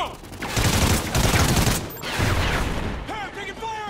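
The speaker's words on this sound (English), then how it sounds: "Hey, I'm taking fire! 30 meters! Cover me!" Loud, dense automatic gunfire from the Call of Duty: Ghosts video game on Xbox 360, continuous bursts of rapid shots with brief breaks, up close and overwhelming.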